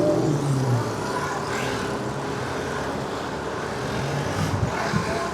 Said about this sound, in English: Traffic is a little bit gnarly.